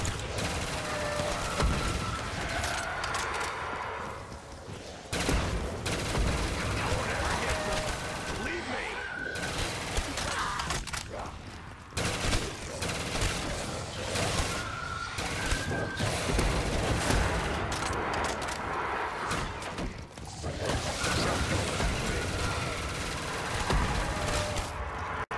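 Rapid bursts of gunfire from a custom zombies map set in an Egyptian temple, loud and nearly continuous with brief pauses, with a voice talking faintly underneath at times.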